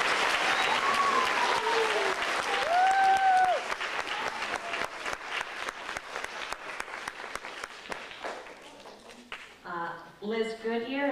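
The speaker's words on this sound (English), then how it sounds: "Let's give them a round of applause." Audience applause at a school election speech for student council candidates, sustained clapping from a crowd that fills the room, then gradually thins into scattered claps before someone begins talking.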